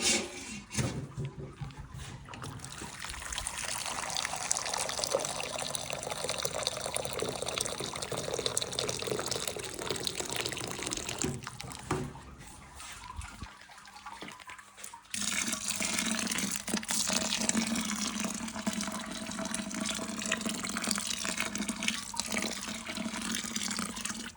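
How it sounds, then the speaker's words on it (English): Steady sparge water pours and splashes continuously into a grain basket during beer brewing, a broad hiss that shifts in tone partway through, with no voices. "We're about 20 minutes into our sparge now, so a bit over halfway with our sparge water."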